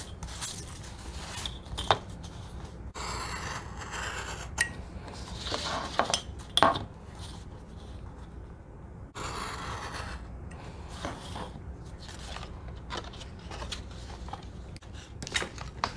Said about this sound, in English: use your scissors here for the top edge of your window